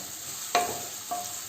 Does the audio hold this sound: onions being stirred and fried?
yes